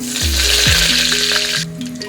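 Cumin, a tablespoon of mustard seeds and curry leaves hit hot oil for mushroom gravy, bursting into a loud, steady sizzle and crackle with sharp pops as each addition lands, close and unbroken.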